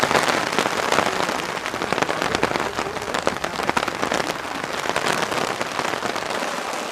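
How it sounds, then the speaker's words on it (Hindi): Steady, heavy rain falls as a dense, loud hiss of drops pattering on surfaces, constant throughout with no voices. "बारिश को देखते हैं।"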